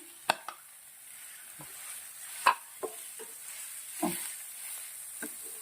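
A mixture is stirred into roasted spices with black pepper in a pan, giving a faint soft sizzle under several sharp, separate spoon scrapes and knocks.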